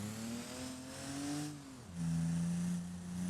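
An Ibishu Claria wagon driving in a video game, its engine humming with a steady tone that rises, dips briefly as the revs shift, then settles into an even drone. No one speaks.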